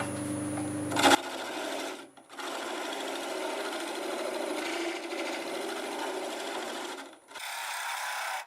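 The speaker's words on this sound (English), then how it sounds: "Maybe I'll run it in reverse for a little while and get some more out." Wood lathe running in reverse while turning a sequoia vase, giving a continuous whirring, rasping drone that cuts out briefly a couple of times before starting up again.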